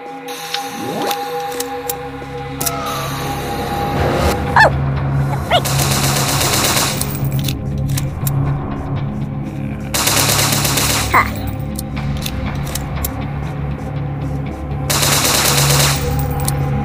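Gunfire in the Momo horror video game comes in several bursts of rapid automatic shots, loud and close, separated by short gaps with faint game noise between them.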